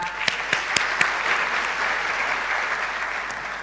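Audience applause at a medical and dental practitioners' induction ceremony, a steady wash of clapping with a few sharp individual claps near the start and no voices over it.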